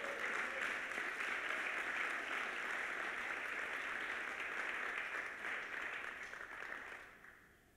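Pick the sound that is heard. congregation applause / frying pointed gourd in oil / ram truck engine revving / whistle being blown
congregation applause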